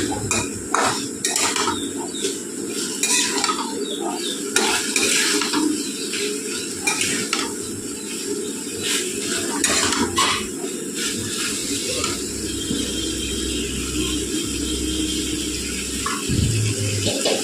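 A curry being sautéed with mustard and green chillies, metal spoon clattering and scraping against the pan in repeated bursts over a low steady sizzle, close and busy throughout.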